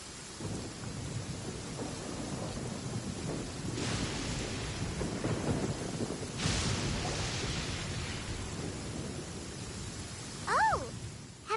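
A thunderstorm in the Genshin Impact video game, with steady rain hissing and long rolling rumbles of thunder swelling in the distance. A brief rising whistle-like tone sounds near the end.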